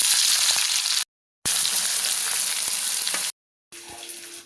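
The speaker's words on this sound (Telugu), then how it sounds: "ఇప్పుడు కట్ చేసి పెట్టుకున్న ఉల్లిపాయ ముక్కలు వేసుకోవాలి." Chopped onion pieces dropped into hot oil already crackling with mustard seeds and cumin, giving a loud, steady frying hiss in three bursts separated by brief silences, with a faint stir at the end.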